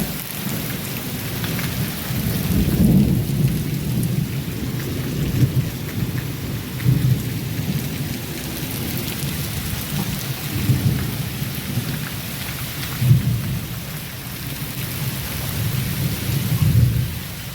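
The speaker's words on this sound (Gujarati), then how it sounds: "વીજળી કડાકા ભડાકા સાથે બગસરાની અંદર સરસ મજાનો વરસાદ." A heavy thunderstorm over Bagasara: dense, steady rain pours onto surfaces while low thunder rumbles roll in and out repeatedly, loud and continuous, with no voices.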